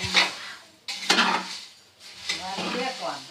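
Chevda snack mix of puffed rice is stirred and roasted in a pan on a stove, with scraping utensil strokes in bursts and a light sizzle and rustle of the dry mix between them.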